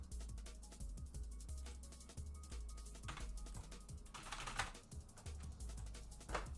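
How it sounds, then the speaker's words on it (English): Random letters typed on a computer keyboard, a fast rattling run of close key clicks over a low steady hum, with a few louder bursts, no voices. "That was me typing random letters as the comment"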